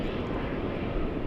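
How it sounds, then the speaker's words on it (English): A Qatar Airways Airbus A350-1000 airliner at LAX arriving from Doha, a loud steady broadband jet engine roar that fills the short stretch, with no voices over it. "The Qatari A350-1000 flying in from Doha City."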